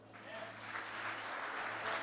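A church congregation claps together in steady, moderately loud applause, with a faint low hum running underneath.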